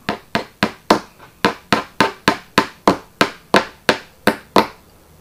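A small hammer taps pins into a model railway turnout: about fourteen sharp, close knocks in a steady rhythm, each ringing briefly, with no talk.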